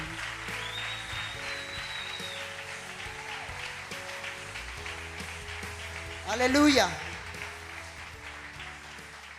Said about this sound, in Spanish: Aplauda fuerte, hermano.